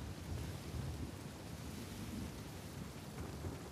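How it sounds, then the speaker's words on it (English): Rain and rumbling thunder in the Uncharted 4: A Thief's End video game, a quiet steady wash of rainfall with low rolling thunder underneath, without voices. "it is about to fucking start downpouring, bro."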